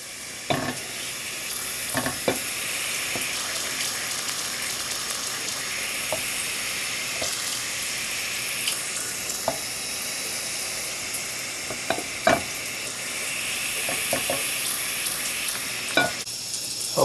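A small bead of water skitters and boils on a hot stone-coated skillet, giving a steady close sizzling hiss broken by a few sharp ticks and pops.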